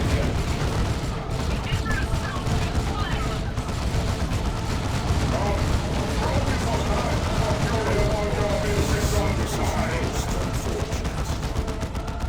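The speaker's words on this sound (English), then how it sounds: "we can still hear the sounds of Psy Cannons even after the game has ended" Psy Cannon fire from Dawn of War II, a dense continuous roar of overlapping shots and explosions that stays steady and loud throughout.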